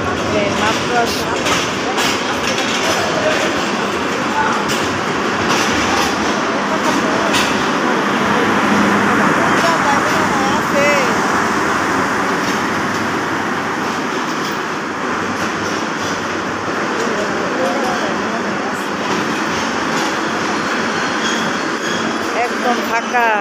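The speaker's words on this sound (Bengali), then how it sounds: "ওই যে দেখেন ট্রেনের যে কি শব্দ, আইসা বসছে ট্রেন" A passenger train pulls into Jamalpur railway station at night with a loud, continuous rumble and rolling clatter of wagons, close by. A voice can be heard over the noise.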